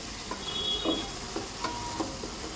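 Spice paste for pumpkin curry sizzles steadily in hot oil, with soft scraping stirs cutting in every half second or so, close and moderately loud, no voices.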